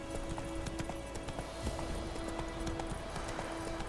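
Horse hooves clip-clop at a quick gallop in The Witcher 3 video game, a steady rhythmic patter of hoofbeats over soft tonal music, fairly faint overall.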